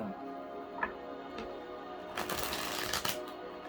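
Quick crisp riffle of shuffled cards, a couple of light taps first, then a rapid fluttering burst near and close, repeated twice in short succession.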